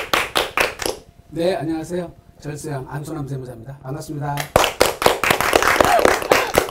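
Sharp clapping in a Korean TV studio on a real estate talk show, bursts of hand claps at the start and again near the end, separated by someone speaking a greeting.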